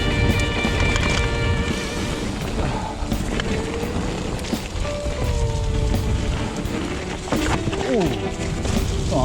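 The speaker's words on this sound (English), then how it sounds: "Very windy." Strong wind buffeting the microphone while mountain biking on a blue trail at Bike Park Wales, a loud continuous rumble with tyre noise and a person's voice calling out.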